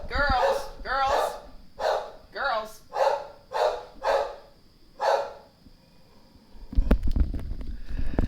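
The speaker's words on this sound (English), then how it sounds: "Oh, there's barking." Dogs bark at the neighbors in a run of about seven loud, evenly spaced barks, some yipping, close to the microphone, followed by a burst of broadband noise.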